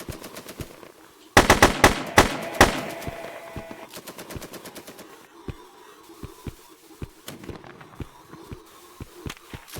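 Gunfire in the video game Datura: a rapid automatic burst erupts, followed by a long series of sharp, evenly spaced single shots that continue at a steady, moderate pace.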